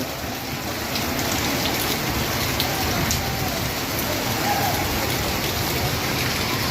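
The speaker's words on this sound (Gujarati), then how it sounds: "અંધરાધાર વરસાદ ચાલુ" Heavy monsoon rain falls in a loud, continuous roar during flooding in Surat, with thick steady drumming on surfaces close by and no break in the downpour.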